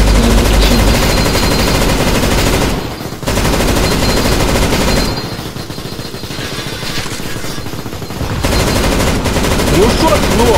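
Gunfire rattles from a CS GO zombie survival mod in a video game, with loud, dense automatic bursts filling most of the clip and two brief pauses between long volleys.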